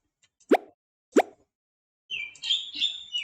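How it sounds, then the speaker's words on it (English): Two short plopping jump effects in a Scratch dodge game, each a quick rising blip, followed by a brighter warbling chirp-like tone; clean, close and without talk. "I added an image jump sound."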